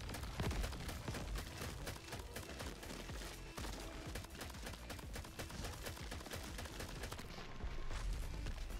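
Pistol gunfire in the video game Crab Champions fires as a dense, continuous barrage of rapid, punchy shots with booming impacts, loud and up close throughout.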